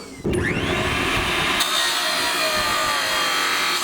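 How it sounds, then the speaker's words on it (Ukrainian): Power saw cutting steel rebar into stock for staples in a blacksmith's forge, a loud continuous grinding whine with a rising screech that starts abruptly and holds steady throughout, close by with no talk. "Жінка ріже арматуру для майбутніх скоб."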